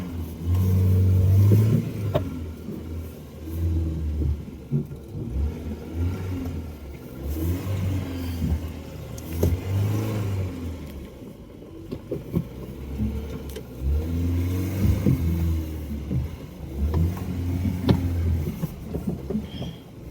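A vehicle engine revving and idling as it is turned around, a low rumbling drone with repeated swells of acceleration, fairly close, with no talking.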